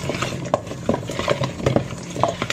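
A spoon stirs and mixes ingredients in a bowl for game-day snacks such as taco-stuffed peppers, with repeated close scraping and soft clacking strokes in an uneven rhythm and no voices.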